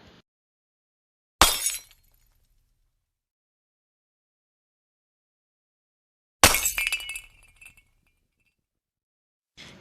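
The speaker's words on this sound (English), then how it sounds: "It's a glass, a breaking glass." Glass breaks twice in sharp, loud shattering crashes several seconds apart, each followed by tinkling fragments settling, close and otherwise silent.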